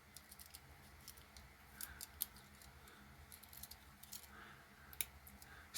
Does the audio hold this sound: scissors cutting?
yes